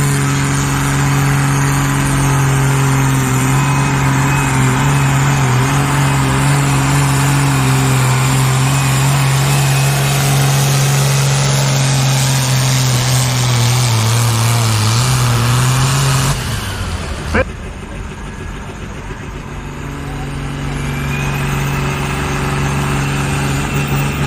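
Antique tractor at a threshermen's reunion in Pontiac, Illinois, its engine droning loud and steady close by for about sixteen seconds before abruptly cutting off, then a quieter background hum.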